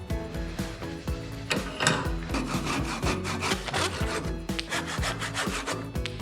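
Hand saw cutting through a 1-inch wooden dowel, loud rhythmic back-and-forth rasping strokes close up, continuous throughout with no talking.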